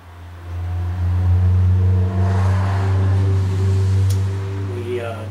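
A 1988 Evinrude 55 HP commercial outboard, or a Johnson 5.5 HP classic outboard, recently fixed with a cleaned carburetor, runs at a steady loud hum close by, rising slightly in pitch before settling.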